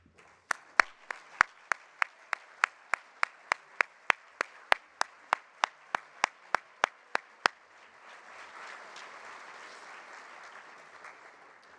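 At a Grady Salutes awards event, a single person claps about twenty sharp, evenly spaced times before the sound swells into broader, softer audience applause that carries on to the end.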